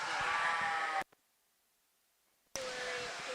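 Dorper sheep bleat at a junior breeding sheep show, a loud close bleat that cuts off abruptly, then a gap of silence before another bleat starts.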